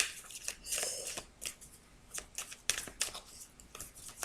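Tarot cards being shuffled by hand before a new spread, crisp riffling bursts and soft slaps in irregular clusters, close and fairly quiet with no talking.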